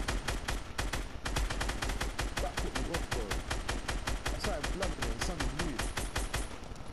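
Rapid, sustained SMG bursts in Fortnite rattle loud and close, an even stream of sharp shots with only a brief gap near the start.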